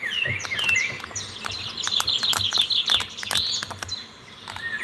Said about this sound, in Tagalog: Mga pipit na ibon